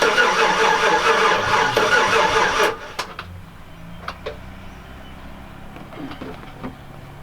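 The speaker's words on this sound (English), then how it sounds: "It's not cranking super fast." Chevrolet Silverado Z71 pickup engine cranking slowly for almost three seconds, loud and steady, then cutting off into a quiet idle-like background with a few faint clicks.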